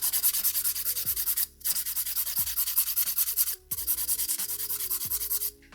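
A hand nail file rasps against an acrylic nail in quick repeated back-and-forth strokes, close and crisp, in three bursts separated by short pauses, with no talking.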